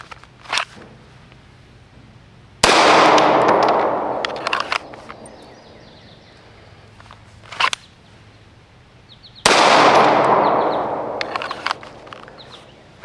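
Wilson SFX9 pistol firing cheap UMC ammunition: a sharp shot, then two loud near cracks with echoing tails about seven seconds apart, with lighter clicks and handling noises in between.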